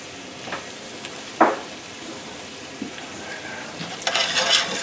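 Butter sizzles in a pot with browned onions and ground hamburger meat as a stew base, a soft steady hiss with a few clunks of a utensil and a brighter burst of crackle near the end.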